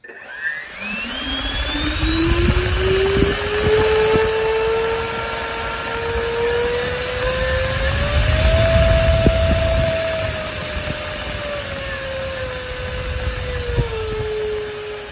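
An electric ducted-fan style motor and propeller on an RC F-16 jet model with a 5280 Truefire afterburner spins up into a loud, steady whine, its pitch rising around the middle and settling, with no talking.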